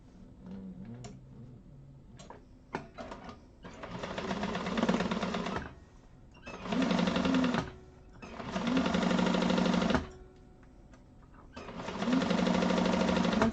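A sewing machine stitches a Maxine tote bag in several separate runs of steady rapid whirring, with quiet pauses and small clicks between bursts, heard close and alone.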